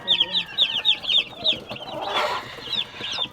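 Chickens, including a rooster, cluck in quick repeated bursts close by, and a louder squawk breaks in partway through. Faint background voices are heard in the farmyard.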